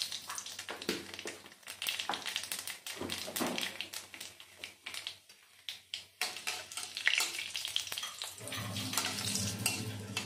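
Nigella seeds sizzle in hot mustard oil with a dried red chilli for tempering, a steady close crackling fry with scattered sharp pops and stirring clatter throughout.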